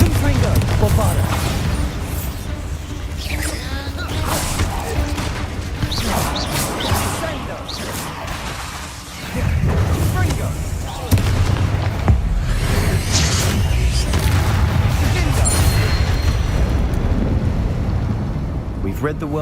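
Bombarda and Confringo spell blasts in Hogwarts Legacy boom and crack repeatedly, loud and close, with rumbling impacts rolling through a dense combat soundscape and voices calling over it.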